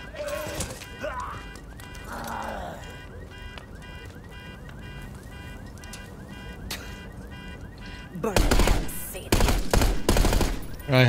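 Gunfire in Call of Duty Black Ops 6 starts as a dense burst of automatic fire near the end, following a stretch of quieter game ambience and engine rumble, with shouted voices nearby.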